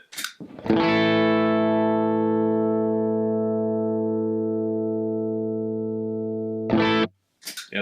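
Electric guitar chord through a Walrus Audio Deep 6 compressor pedal, struck once and held with long, even sustain for about six seconds before being cut off, followed by brief string noise, close and alone.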